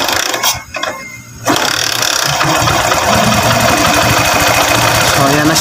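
A small engine with an air-screw type carburetor is restarted. After a brief lull it catches and settles into a steady, rattling, mechanical run, loud and close.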